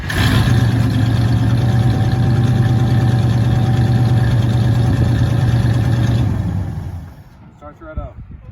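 A 1980 International Scout engine runs loud and close at a steady idle for about seven seconds, then cuts off, leaving quiet voices at the end.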